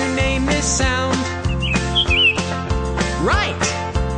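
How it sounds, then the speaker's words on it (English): Birds chirping on a farm, a series of bright tweets and short whistled calls with rising and falling pitch, set over a steady musical backing. "Right, the birds go"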